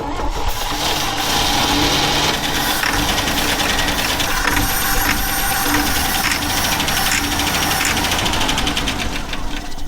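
An old truck that hasn't started in years cranks steadily for about ten seconds without catching, its engine not getting fuel; the churning sound is loud and close and runs on unbroken, with no speech.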